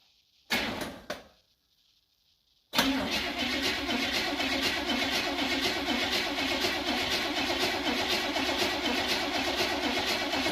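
A Buick 350 V8 engine cranks briefly, goes quiet for a moment, then fires and settles into a loud, steady idle. The rumbling roar stays close and continuous to the end, with no talking.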